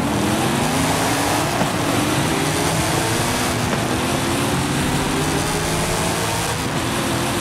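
Racing cars in a drift racing video game, engines droning loudly and continuously with rising and falling whine as several cars run together, no talk over the steady mechanical roar.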